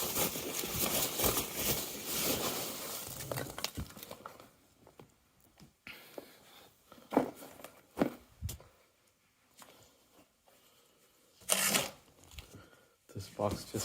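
Crinkly, tearing rustle of packaging being pulled off GTHaus Meisterschaft catback valved exhaust parts for a Lexus, dense and close for the first few seconds, then scattered sharp crackles and rustles with quiet gaps between.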